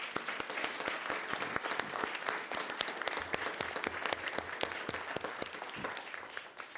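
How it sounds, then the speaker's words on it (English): Applause for families at a school district governing board meeting, a sustained round of many people clapping with distinct sharp claps throughout, fairly close and steady, tapering slightly at the end. "So a big round of applause for all the families that support these students that have joined us this evening."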